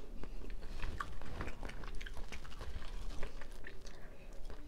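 Close, wet chewing and crunching of canned Chinese shellfish, with irregular bites and mastication sounds that carry on steadily without any talking.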